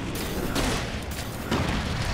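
Gunfire in the Alan Wake video game comes as several dense, booming bursts in quick succession, loud and continuous with no talk over them.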